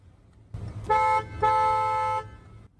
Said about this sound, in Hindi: डुअल हॉर्न है।